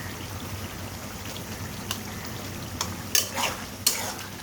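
Ground chili, coriander, turmeric and ginger-garlic paste are mixed for haleem in a pan, giving a soft continuous sizzle with a few sharp scraping clicks and stirring knocks near the end.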